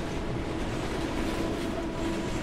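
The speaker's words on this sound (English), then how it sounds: "Or is that just the train?" A train rolling past inside the video game Final Fantasy VII Remake, a steady dense rumble with rattling undertone holding at even loudness throughout, no talk.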